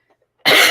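A single sharp, loud cough bursts out close to a chest-worn microphone after near silence.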